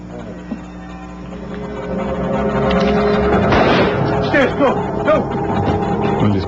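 A single sharp gunshot rings out outside an embassy guarded by Yugoslav security agents, a brief loud crack partway through, set against a steady musical bed and murmuring voices.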